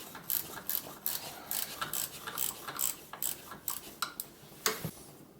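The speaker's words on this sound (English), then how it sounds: "I can use this combination wrench with this little flexible end." Rapid metallic clicking of a combination wrench with a flexible ratcheting end turning a bolt on a Cub Cadet 149 garden tractor, a quick uneven run of close, crisp ticks with brief pauses and no talk.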